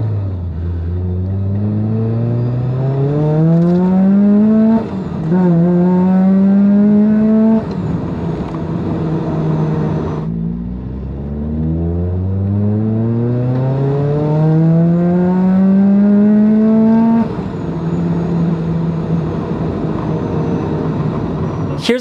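A Rotrex-supercharged NB Mazda Miata engine revs loudly and close during dyno pulls, pitch rising steadily through each gear, with brief dips at the shifts and a drop off before a second full pull.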